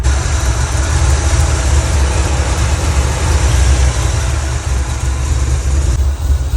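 Steady broadband whir of a Honda Odyssey electric engine cooling fan running on a 1985 Oldsmobile Cutlass with the engine idling warm, a constant mechanical drone heard close with no talk.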